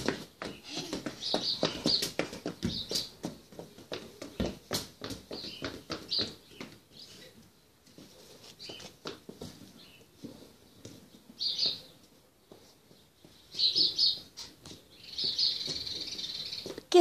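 Birds chirp in short bright bursts across an outdoor scene, several calls spread over the stretch, mixed with irregular knocks and handling noises and some nearby talk.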